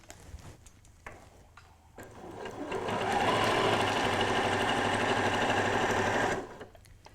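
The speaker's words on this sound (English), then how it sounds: "Stitching all the way round, and I'm using the edge of the presser foot as my guide" Close sewing machine runs a steady straight seam around a fabric table runner, a rapid mechanical whir lasting several seconds between quieter handling clicks at start and end.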